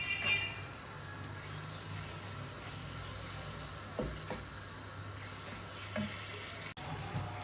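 Minced meat frying in a pan for achari keema karela, a faint steady sizzle over low-to-medium heat with a few soft stirring knocks.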